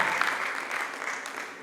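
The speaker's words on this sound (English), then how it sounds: "Please, a round of applause for her." An audience at an academic writing workshop applauds the dean, giving a steady, dense burst of clapping from many hands that fills the room and fades slightly toward the end.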